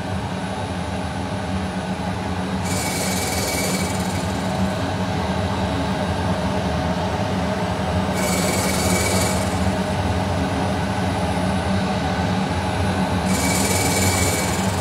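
A steady grinding whir runs throughout, with three bursts of high, hissing scraping at regular intervals as a diamond grinding wheel is dry-trued with molybdenum.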